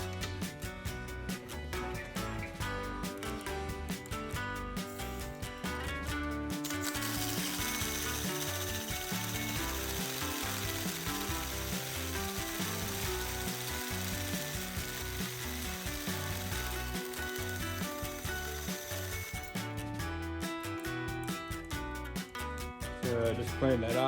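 A tube notcher cuts chromoly tube for a chassis, producing a loud continuous grinding, chattering machine noise that lasts throughout with only slight changes in tone.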